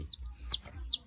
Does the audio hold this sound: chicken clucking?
yes